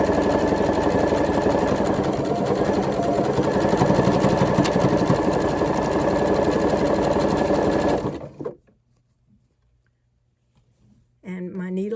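A sewing machine runs continuously and close up, stitching ribbing onto a T-shirt crew neckline with a steady rapid hum, then stops into near silence before a voice begins speaking.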